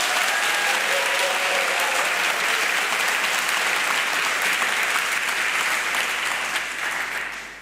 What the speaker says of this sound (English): please clap enthusiastically now